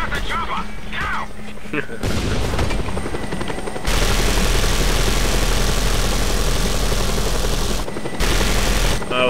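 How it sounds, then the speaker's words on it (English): A helicopter in the video game Just Cause 2 drones with a steady, loud rotor and engine roar that swells and persists, mixed with game crashes and effects, while a person talks over it. "Oh, we got chopper coming."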